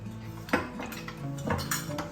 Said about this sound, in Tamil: அடுப்பை பற்ற வச்சு தோசை கல்லை அடுப்பில் வச்சுக்கோங்க